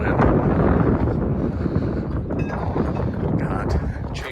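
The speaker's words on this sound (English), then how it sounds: "Don't mind the wind." Strong wind buffets the microphone outdoors beside a Peterbilt 389 lowboy rig, a loud, steady roaring rumble throughout, with faint clanks in the background.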